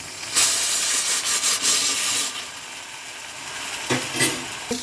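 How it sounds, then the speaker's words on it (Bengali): Turmeric and ginger-garlic paste sizzle in hot oil while being stirred, a steady bright hiss with repeated scraping swells as the spoon moves through the pan. "তেল বেরোনো পর্যন্ত নাড়বো। নাড়ছি।"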